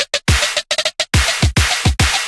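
A dubstep build-up snare and clap hits in a rapid stuttering pattern, short loud bursts speeding into denser repeats over deep booming kicks.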